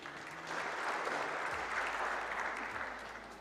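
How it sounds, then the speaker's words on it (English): Crowd applause at a squash venue during the WSF Under-23 World Championships semi-finals, a short burst of steady clapping that swells and then tapers off, with a low hum underneath. "Can we please have a round of applause for them too?"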